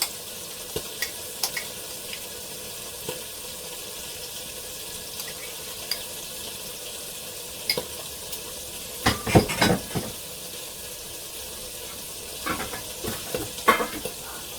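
A ginger, garlic and onion paste fries in a pan over a soft, constant sizzle, broken by sharp spatula scrapes and clatters that come in sparse taps and then denser bursts toward the end.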